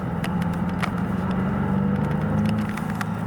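A 2022 Hyundai Elantra N with a DCT gearbox accelerating, its engine a steady rumbling drone heard from inside the cabin, with scattered clicks over it and no talk.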